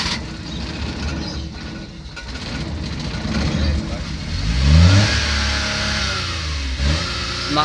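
A multicab's engine starts and revs roughly, swelling and rising in pitch mid-clip and dropping back before a second shorter rev, loud and close, with voices partly over it.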